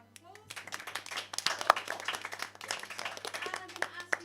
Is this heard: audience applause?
yes